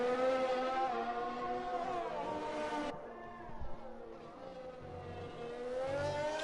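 A Renault Formula 1 car in a racing video game league laps the Hungarian Grand Prix circuit during qualifying. Its high-pitched engine screams and climbs through the revs, shifts gear abruptly, then builds again, loud and steady throughout.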